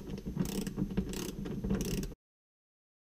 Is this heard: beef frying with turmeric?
no